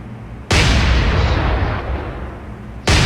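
Battleship main guns fire in a naval combat game, the US battleship South Dakota opening up with a sudden massive roar that rumbles and sustains loudly before a second heavy blast cuts in at the end.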